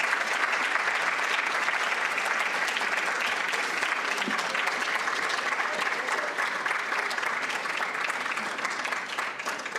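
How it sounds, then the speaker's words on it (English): A ceremony crowd applauds family and friends at a medical school class's white coat ceremony, sustained dense clapping that holds steady for the whole stretch and tapers slightly at the end. "give a round of applause to all of the family and friends here and online that are supporting you to this point"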